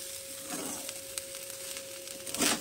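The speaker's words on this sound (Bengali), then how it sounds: "এবার আমি সব কিছুই ভালো করে মিশিয়ে নেব।" Fried rice made from leftover rice is mixed in a hot pan, giving a steady close sizzle with light stirring scrapes that swell near the end, with no talking.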